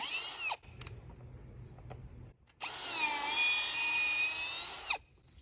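Close by, a power drill drives into wood for a kiwi trellis: one short whining burst, a quiet gap with faint handling noise, then a longer steady high-pitched run.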